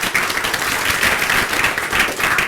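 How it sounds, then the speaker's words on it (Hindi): Loud, dense applause from students in a group discussion and interview training session, a steady roar of many hands clapping together throughout with no voices over it. "निमिकांत जी के लिए तालियां बजेगी।"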